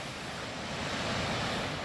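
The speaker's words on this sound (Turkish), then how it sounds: "Burası şelale." A large waterfall high in the French Alps, a dense, steady roar of rushing water with no breaks, loud and close and free of speech.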